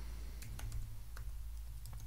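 Typing on a computer keyboard, a quick run of soft, close key clicks over a low steady background hum.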